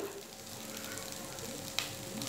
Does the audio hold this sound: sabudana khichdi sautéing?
yes